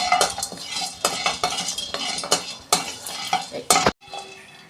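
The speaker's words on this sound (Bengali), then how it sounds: "আমি মশলাটা একটু বেশি করেই ভেজে নিচ্ছি" Spice masala is dry-fried and stirred in a pan for aloo dum, with a rhythmic series of sharp metal spoon scrapes and clinks against the pan over a low sizzle, with no speech.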